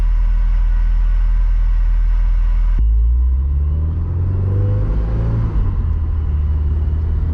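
Supercharged Honda S2000 cruising gently, a loud steady engine drone with deep low rumble, shifting tone partway through as revs drop and settle, no one talking.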